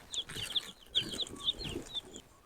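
Newly arrived meat chickens clucking and peeping in quick overlapping bursts, close and fairly quiet, with soft rustling beneath.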